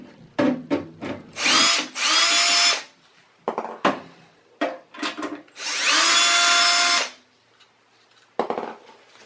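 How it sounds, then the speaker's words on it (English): A power drill whirs in short and longer bursts, with pauses and small clunks between, close up as screws are driven out of a Lenovo ThinkCentre computer's side cover panel. "And I'm just going to use a drill instead."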